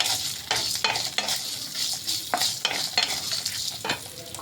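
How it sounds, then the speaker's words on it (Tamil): Garlic cloves are stirred in a hot pan for moringa leaf chutney, giving a steady close sizzle with repeated scrapes and clacks of the spatula against the pan. "இது கூட ஒரு 5-6 பல் பூண்டு, இதையும் இது கூடயே வதக்கிடலாம்"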